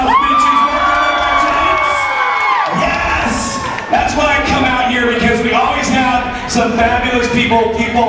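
A nightclub crowd at an all-male revue cheers, whoops and screams loudly and continuously, with shrill high voices rising in waves over an amplified announcer's voice.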